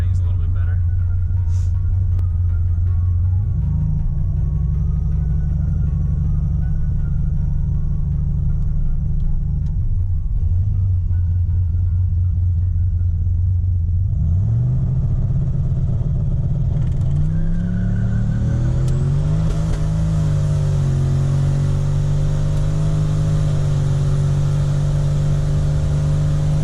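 The turbocharged engine of a street truck idles with a deep, steady rumble, then revs and climbs in pitch as the tires spin, loud and close throughout.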